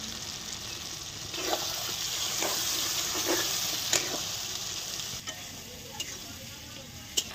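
Spiced masala with chopped tomato fries in a wok as a spatula stirs it, a soft continuous sizzle broken by scraping strokes and a few sharp clacks against the pan, fairly close and without talk.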